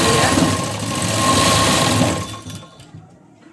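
A sewing machine runs steadily, stitching across the sleeve joint of a blouse with a fast, even whirring hum, then stops and the sound drops off.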